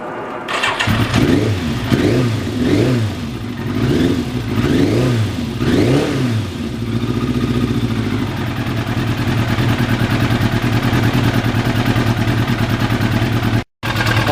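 A sport bike with a restored muffler starts and revs in several rising and falling bursts, then settles into a loud, steady drone as it pulls away close by.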